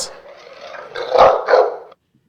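A dog barks and growls close by in a few rough bursts, then the sound cuts off into silence.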